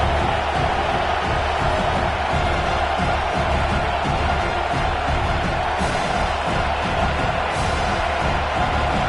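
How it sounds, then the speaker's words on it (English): A football stadium crowd roars in a dense, steady wall of noise during a field goal attempt in a Tennessee versus Iowa game, loud and sustained throughout. "This crowd trying to do its part to get inside the kicker's head."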